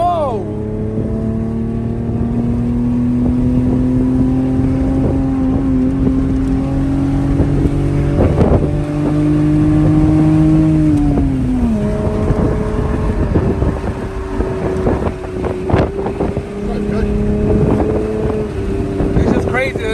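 A Lexus SC300 engine runs after an EGR delete, a steady loud idle with rising and falling revs and a shift in pitch midway, under wind buffeting on the microphone and some talking.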